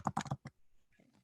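Several quick keystrokes on a computer keyboard typing a search question, a rapid burst of clustered clicks followed by a lone tap, then quieter faint rustling.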